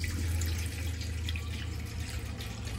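Hot water tap running in an AutoTrail Miami motorhome, a steady, close flow of water into a sink with a low hum underneath, continuous throughout with no voices.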